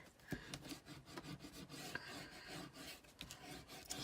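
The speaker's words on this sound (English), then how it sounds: "now what you want to do with all of this tape is definitely give it a good burnish" Tape on a handmade journal cover is rubbed down firmly with a burnishing tool, a quiet, close scraping rasp in repeated short strokes with no voices.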